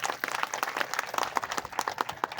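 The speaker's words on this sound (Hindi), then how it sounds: "सब लोग एक बार जोर से ताली बजाएं।" Audience applause at a cultural event on tribal heritage, a dense, steady clatter of many hands clapping throughout without pause.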